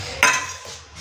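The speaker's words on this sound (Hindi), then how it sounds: "सारे बर्तन गिर गए" Metal cooking pots, pans and utensils clatter down in a home kitchen, one loud crash at the start followed by a short jangling, rattling tail that fades quickly.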